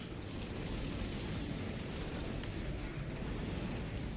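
A Titan's cannon fires in Warhammer 40K Space Marine 2, a continuous loud, rumbling blast that fills the whole stretch with dense low-end roar and no clear separate shots.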